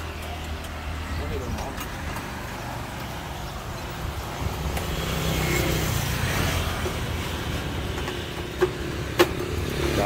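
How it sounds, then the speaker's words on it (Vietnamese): A Honda RSX 110 motorcycle engine with an upgraded cam idles and rumbles steadily, swelling slightly midway, with a couple of sharp clicks near the end and background traffic-like noise. "Nổ máy nghe cái rồi làm nha."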